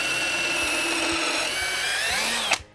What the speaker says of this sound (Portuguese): vamos furar de um lado ao outro para que o parafuso passe facilmente esta primeira ripa